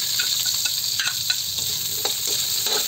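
Garlic and onion sautéing in a pan, a steady close sizzle with light intermittent stirring clicks, continuous and fairly loud, no one talking.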